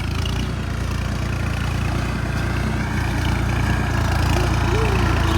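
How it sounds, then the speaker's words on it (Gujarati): A tractor ploughs an open farm field, its engine a loud, steady low drone throughout, close by and unbroken. "મસ્ત ખેડે છે જો ટ્રેક્ટર"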